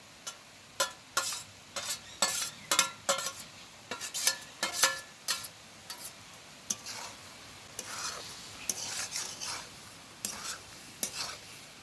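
A spoon stirs and scrapes cooked pasta topped with scrambled egg around a pan, a series of sharp, irregular scraping strokes over a soft background sizzle, close and fairly quiet.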